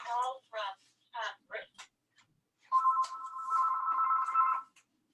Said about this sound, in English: Excuse me, I get this phone.